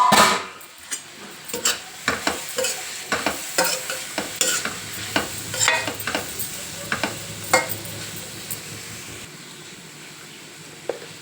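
Broad beans (chikkudukaya) frying in hot oil for a vegetable curry give a steady sizzle, with repeated sharp scrapes and clinks as a spatula stirs them in the pan, heard close and clear without talk.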